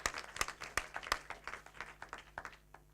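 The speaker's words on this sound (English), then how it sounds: "So just a round of applause for all of these people who worked so hard and come so far." Audience applause at an award ceremony for a contest, a modest round of clapping with several loud close claps early, thinning and fading toward the end.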